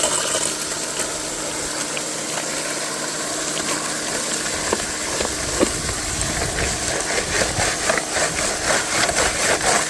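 A small petrol water pump engine runs while gold prospecting at a creek, idling with a steady hum under scattered knocks and clatter that grow busier toward the end.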